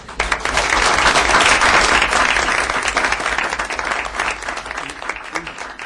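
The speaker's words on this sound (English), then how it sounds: "If you wouldn't mind joining me in a round of applause for these teachers." Loud, dense audience applause for teachers at a school board meeting, a sustained crowd of clapping hands that swells quickly and slowly tapers near the end.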